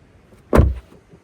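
A Tesla Model 3 door, 2025 model, shuts once with a single solid thump, close and short, followed by quiet.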